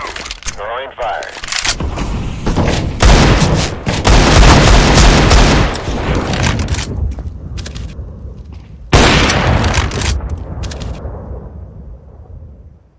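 Loud, dense booms and bursts of gunfire from a Counter-Strike: Global Offensive match, with repeated grenade blasts crashing through the mix and a big new explosion near the end, partly under game voice callouts.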